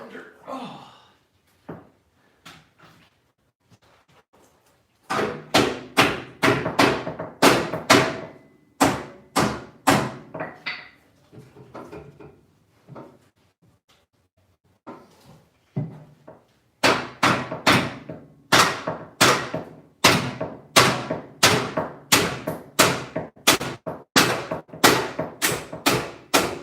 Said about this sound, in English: just had to tap that band clamp because it was sticking to the header really good.